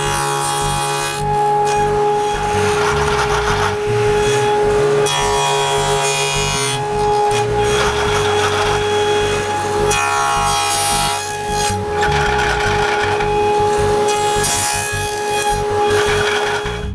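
Steady rasping of a saw cutting through wood for intarsia bookend finger joints, continuous back-and-forth strokes with a faint mechanical hum underneath, close and fairly loud throughout.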